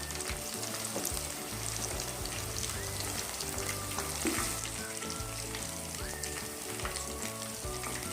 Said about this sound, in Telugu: ఇప్పుడు నేను సిమ్లో పెట్టి ఫ్రై చేస్తున్నానండి